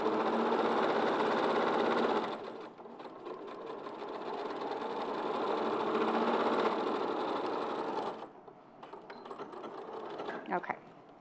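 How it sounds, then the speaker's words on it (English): A sewing machine stitching down fabric runs in a steady, close mechanical whir, pausing briefly and then continuing, with a faint voice in the background. "I'm just going to stitch that down."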